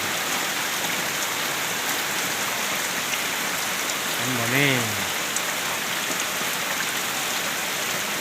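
Steady, dense rain hisses evenly on surfaces throughout, with a brief short voice rising over it midway.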